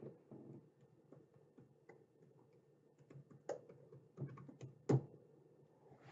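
Quiet, close keyboard typing, irregular clusters of soft key taps with a few sharper clacks, one louder strike near the end, no voices.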